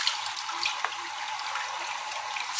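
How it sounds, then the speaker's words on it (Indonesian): Water poured over skin during a bath splashes and streams steadily, a continuous wet rush close by with no voices. "saya siram dulu sayang"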